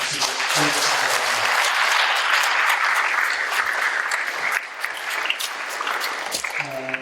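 A seated audience at a centennial commemorative lecture gives loud, sustained applause. The dense clapping continues for several seconds, with a voice briefly audible at the start and end.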